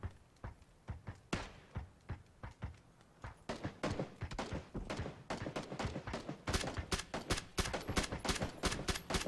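Gunfire in the shooting game PUBG: Battlegrounds, a fast run of sharp, loud shots in bursts that grow denser and steadier, close and dominant throughout.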